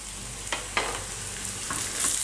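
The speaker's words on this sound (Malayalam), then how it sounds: "ഇതൊന്ന് നന്നായിട്ട് വഴറ്റിയെടുക്കുക." Onion with turmeric, coriander and chili powder sautéing in a pan for a Malabar chatti pathiri filling, a steady close sizzle broken by a few scraping stirs, with no voices.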